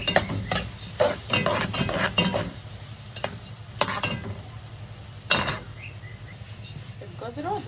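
Vegetables stirred in a pot for a potato and chicken tray dish, with irregular scraping and clinking strokes over a soft continuous sizzle, the stirring loud and close in short bursts.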